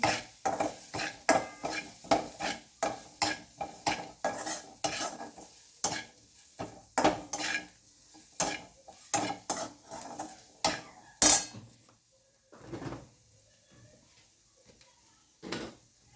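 Mixed vegetables with Maggi masala and pav bhaji masala stirred in a pan for veg fried rice: rapid rhythmic spatula clacks against metal over a soft sizzle, close by, slowing to sparse knocks toward the end.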